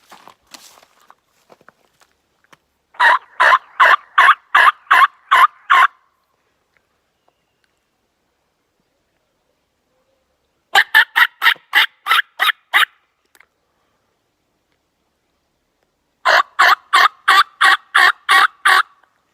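Wild turkeys gobble in the evening outdoors, three separate bursts of rapid rattling gobbles, each lasting a few seconds and separated by long silent gaps, clear and fairly close.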